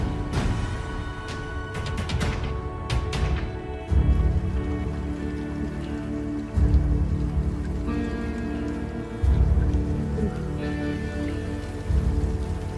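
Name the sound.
rain at night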